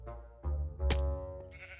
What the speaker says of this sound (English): I sheared the sheep for the wool.